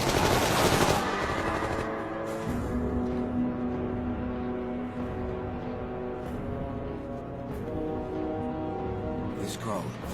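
Machine gun fire rattles in an action film, a dense continuous barrage of rapid shots heard alongside shouting voices and other battle noise.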